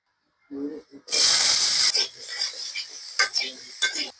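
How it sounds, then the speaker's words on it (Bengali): Cucumber pieces dropped into the hot oil left from frying tangra fish, a sudden loud hiss followed by clattering utensil scrapes and short bursts of sizzling. "মাছ ভাজি করার তেলেই আমি শসাগুলো ভাজি করে নেব।"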